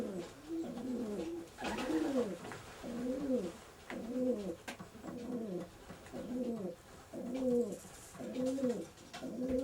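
Racing pigeons coo in a steady repeating rhythm in a loft, about nine soft throaty phrases close by, with faint background noise.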